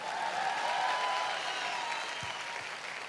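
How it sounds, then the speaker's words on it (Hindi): Moderate clapping from a seated audience at a business talk, steady and somewhat distant, with a faint tonal hum underneath and no voices. "तालियां तो बजा दो यार।"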